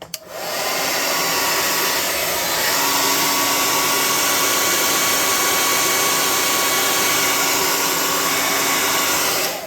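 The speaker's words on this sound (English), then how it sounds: "Let's try the hot air gun and see what it does." A hot air gun blows steadily at close range, a loud, even rushing whoosh that starts abruptly and runs without a break, with no voices over it.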